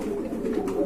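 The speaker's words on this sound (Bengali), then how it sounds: "আর এখানে কিন্তু এই যে দেখতে পাচ্ছেন আরো কিছু কবুতর ঢুকানো হয়েছে এই খাঁচাটার ভিতরে" Caged pigeons coo in a brief, low, murmuring burst, close and steady, with no voices.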